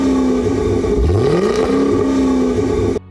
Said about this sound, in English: Jason's F-Type SVR comes with a supercharged V8 engine